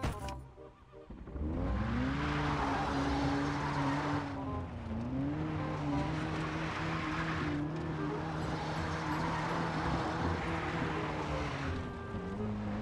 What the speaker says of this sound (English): driving in this game is absolutely flawless